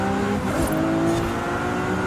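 Race cars in Forza Horizon 5 rev and roar continuously, with engine tones rising and falling as cars pass close by in a crowded race that includes a Ford Cosworth in Hoonigan livery.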